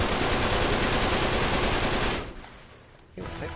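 Rapid automatic gunfire in Uncharted 3: Drake's Deception, a dense loud burst of continuous shots that cuts off briefly, then resumes at the end.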